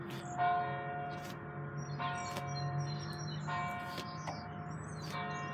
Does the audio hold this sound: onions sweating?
no